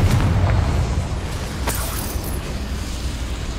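A Confringo fire-blast spell in Hogwarts Legacy booms out loudly at the start, then a second softer burst follows a moment later, both trailing into a steady rumbling game ambience.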